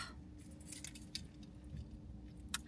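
Small metal keys jangling with cute charms clipped to the ring, a few light clinks and rattles close by, with one sharper jingle near the end, over a low steady background hum.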